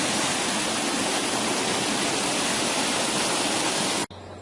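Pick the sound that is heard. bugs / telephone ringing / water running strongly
water running strongly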